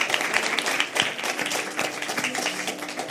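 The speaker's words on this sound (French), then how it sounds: "Ouais, on peut l'applaudir, franchement." An audience applauds at a French panel event on advertising and creative careers, with dense, steady clapping throughout at moderate level and no clear speech over it.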